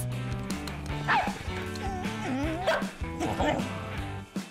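Dog barking in the Poppy Playtime video game, a series of yips and whimpering barks over game music, with some speech-like sounds mixed in.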